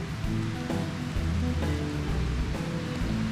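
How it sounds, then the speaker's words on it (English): Heavy tropical rain pours down steadily at a rainforest lookout in Far North Queensland, a dense, continuous hiss with no talk over it. "today it's bucketing down with rain."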